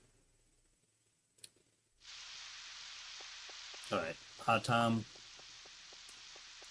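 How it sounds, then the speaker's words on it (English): Rain in the Nintendo 64 farming game Harvest Moon 64 sets in abruptly after a near-silent stretch and one faint tap, then continues as a steady, even hiss; someone speaks briefly over it partway through. "Oh, that is rain."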